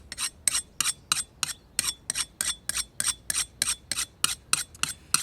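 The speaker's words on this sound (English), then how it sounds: "you should be sharpening the blade of your hoe probably every few minutes while you're using it" A sharpening stone rasped along the blade of a garden hoe, about seventeen quick, evenly spaced scraping strokes, close and clear with no talking.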